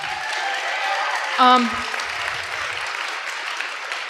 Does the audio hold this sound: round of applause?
yes